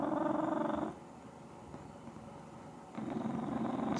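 A cat purs loudly while being affectionate with its owner, a close, rhythmic rumbling that stops for about two seconds and then resumes just as strongly.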